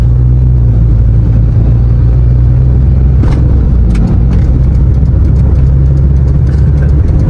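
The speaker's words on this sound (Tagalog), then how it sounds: "nadidinig nyo pa yung kalog, tapos yung ingay" Steady low road rumble from a moving Honda Civic, with a few sharp rattles and knocks from inside the cabin partway through.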